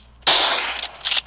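A gunshot in the mobile game PUBG Mobile gives one abrupt, loud blast, followed by a brief crackling tail and a couple of quieter bursts.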